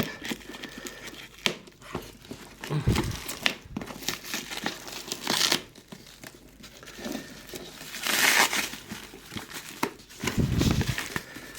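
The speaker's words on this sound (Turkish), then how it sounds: "Bayağı bir derin paketlenmiş ama açarız." A heavily taped package being torn open by hand, with loud bursts of crinkling, ripping plastic and tape coming in irregular bouts, close up and with no talking.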